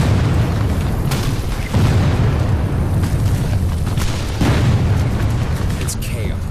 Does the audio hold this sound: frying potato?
no